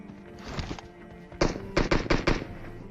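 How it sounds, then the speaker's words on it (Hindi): Gunfire in the mobile battle royale game PUBG Mobile near a warehouse, a few shots early on followed by a louder, close burst of sharp rapid reports. "वो वेयर हाउस से कहीं बाहर फायर कर रहा है घरों की साइड"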